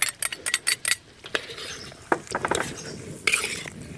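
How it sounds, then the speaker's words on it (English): Tomato sauce is stirred into a dish in a pan on a gas ring, heard as a quick run of clinking, scraping utensil strokes followed by a few scattered knocks, close and moderately loud. "Now, we stir in some tomato sauce or tomato puree."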